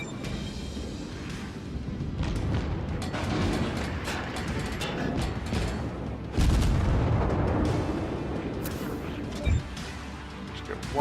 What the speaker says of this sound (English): I take aim and start opening up fire